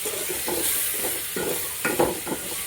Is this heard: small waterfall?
no